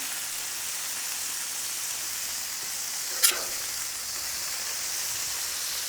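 Buttered brioche buns fry on a griddle in melted butter with a steady, even sizzle that holds at one level throughout, broken once by a brief sharp scrape or tap partway through.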